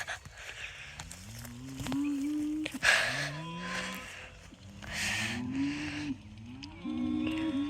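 Cattle on a farm pasture, with a newborn calf among the herd, low mooing calls repeating over several seconds, fairly close and loud, overlapping one another against outdoor background noise.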